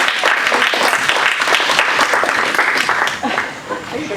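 An audience at a cover-crops gathering in Iowa claps loudly in a dense, sustained burst of applause that tapers slightly near the end, with a voice speaking over it.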